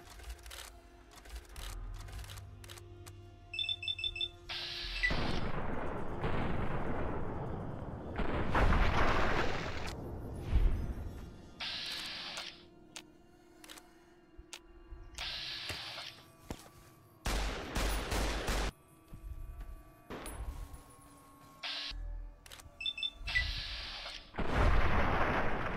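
Repeated bursts of gunfire and booming explosions from the video game Fallout New Vegas, loud and irregular, with rapid shots and heavy blasts broken by brief lulls of quieter game ambience.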